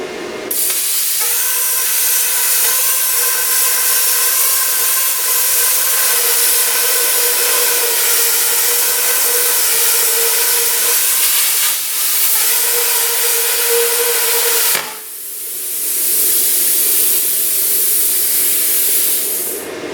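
A Primeweld 50D plasma cutter slices through dirty quarter-inch steel with a loud, steady roaring hiss and a faint tonal whine, pausing briefly near the end before starting again.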